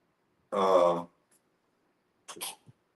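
A single sharp sneeze bursts out in quiet surroundings, followed a moment later by a short breathy sniff.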